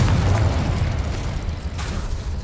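Confringo spell blast in the video game Hogwarts Legacy, a loud rumbling explosive boom that swells at the start and rolls on with a heavy low tail, with no talking.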